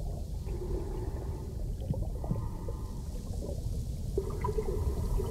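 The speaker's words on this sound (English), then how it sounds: "I like the sound of the water." Muffled underwater ambience in the game SILT, a faint low continuous rush of water with soft gurgles and a gentle droning hum, steady and quiet with no speech.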